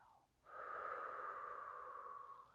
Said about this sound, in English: and breathe in, and push on the exhale